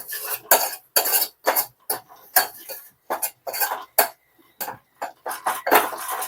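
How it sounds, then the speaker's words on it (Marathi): Turmeric being stirred into a pan of food for a brinjal curry, heard as a series of irregular metallic scrapes and clinks of a spoon against the pan, close and distinct, with short pauses between strokes. "हळद टाकणार आहोत अर्धा चमचा इतकी छान सगळं मिक्स करून घेणार आहोत"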